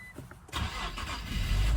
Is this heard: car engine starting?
yes